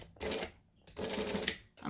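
A sewing machine stitches down a seam in fabric in two quiet bursts of steady whirring, separated by a short pause.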